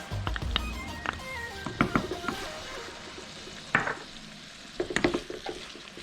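Carrots, tomatoes and thyme sizzle in a pan as they are stir-fried, with bursts of frying hiss amid clattering utensil scrapes and knocks.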